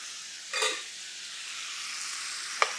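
Fennel and onion sautéing in a pan, a faint hissing sizzle with a scraping stir near the start and a small clink of a utensil at the end, quiet and close.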